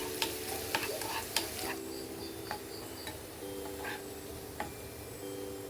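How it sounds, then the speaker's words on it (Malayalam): Shallots and curry leaves fry in hot coconut oil, a soft steady sizzle with sharp clicks of a utensil against the pan at the start, and faint high chirping tones in the background. "ഒരു പാനിലേക്ക് വെളിച്ചെണ്ണ ചൂടാക്കി അതിലേക്ക് ചെറിയ ഉള്ളിയും കറിവേപ്പിലയും ചേർത്തൊന്ന് നന്നായിട്ടൊന്ന് മൂപ്പിച്ചെടുക്കാം."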